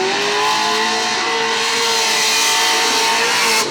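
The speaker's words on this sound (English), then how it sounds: "It's a very high revving V8." A loud, sustained V8 race car engine screams at high revs during a drift event, its tone rising and shifting steadily with no break, close and dominant throughout.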